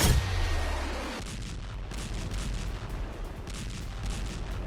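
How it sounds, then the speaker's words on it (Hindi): A heavy explosion booms in Gaza in wartime footage, a loud low blast at the start that rolls off into a sustained noisy rumble with faint crackling. "गाजा में धमाके हो रहे हैं"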